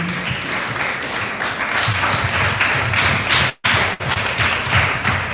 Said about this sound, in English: Give yourself a round of applause, students